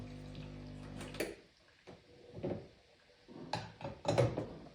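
A coffee machine flushes a short burst of water through its head after cleaning, with clunks of handling and hissing water in brief bursts, close and fairly quiet.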